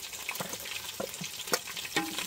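Grated coconut roasting in a pan over a wood-fired clay stove, heard as a soft continuous frying hiss broken by a few scraping stirs at irregular intervals.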